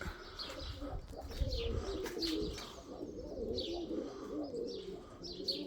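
Outdoors at dawn, pigeons and other birds coo and chirp near and far over a soft background, with some faint wing flutter as birds pass overhead; no one speaks.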